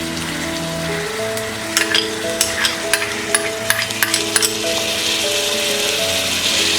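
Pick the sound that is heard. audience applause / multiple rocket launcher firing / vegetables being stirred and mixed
vegetables being stirred and mixed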